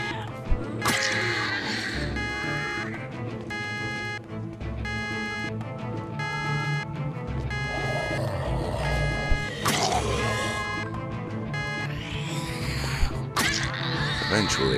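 Car alarm going off in Project Zomboid, loud repeating electronic pulses in a steady rhythm, mixed with swooping siren-like sweeps and other game noise, close and continuous.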